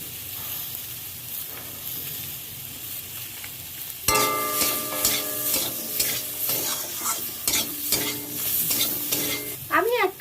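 Pointed gourd is stirred with salt and turmeric in a hot pan, first a quiet low simmer, then a sudden loud sizzle with repeated scraping stirs and crackling hiss up close.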